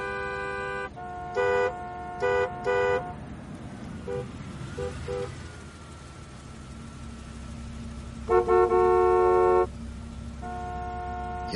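City traffic on a weekday afternoon, with a steady engine and road rumble beneath repeated car horn blasts: three short honks near the start, a few fainter toots midway, then longer loud horn blasts toward the end.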